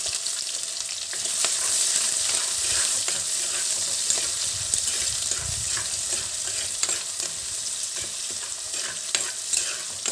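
Chopped onion frying in oil in a pan, a continuous crisp sizzle with intermittent stirring scrapes and taps from a spoon, close up and steady for ten seconds without any talking.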